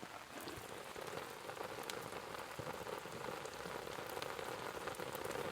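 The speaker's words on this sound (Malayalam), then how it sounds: "മഴയൊക്കെ പെയ്തു തുടങ്ങി." Steady rain falling at the onset of the monsoon season, a dense, even patter on surfaces with scattered close drips, continuing without a break throughout.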